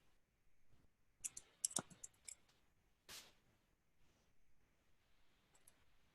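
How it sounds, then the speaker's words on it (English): A few sharp computer mouse clicks cast a vote in a webinar poll, quiet isolated taps in a brief cluster and then a couple more, in an otherwise near-silent room. "I'm going to click my own poll"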